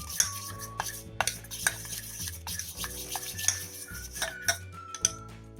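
Quick rhythmic clinks and scraping of a utensil beating a thick matar dal paste with turmeric in a bowl, steady and close, with no talking.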